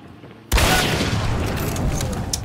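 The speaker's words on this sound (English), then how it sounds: "So he has a shotgun" A shotgun blast in the game Hunt: Showdown erupts suddenly after a brief quiet moment, a loud, close boom whose rumbling echo lingers and slowly fades over the next two seconds.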